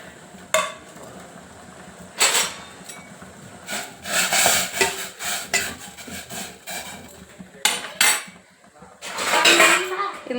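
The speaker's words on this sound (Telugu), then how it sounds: "ఇప్పుడు మనం కట్ చేసుకున్న కాలీఫ్లవర్ వేసేస్తాం" Cut cauliflower added to a pan while cooking Gobi 65, with clattering pieces, scraping and stirring of a spoon against the pan in repeated bursts, close and fairly loud.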